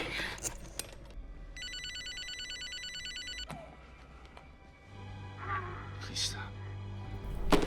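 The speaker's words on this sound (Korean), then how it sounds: "서둘러 가장 믿음직스러운 폴에게 전화를 걸기로 하죠" A telephone rings as a call is placed, sounding as a bright trilling ring that lasts about two seconds. A voice speaks around it, and other scattered background sounds follow.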